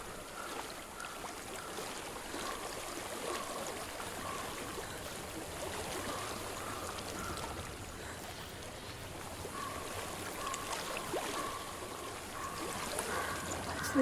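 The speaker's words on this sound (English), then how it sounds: "I hear water. Go to it." Steady running water of a stream fills a wild outdoor setting in Hellblade: Senua's Sacrifice, a continuous trickling wash with faint intermittent tonal hums over it, with no talk.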